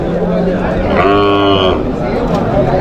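A bullock at a cattle market in Vaniyambadi lets out one long, loud moo mid-clip, over a dense backdrop of crowd chatter and market noise.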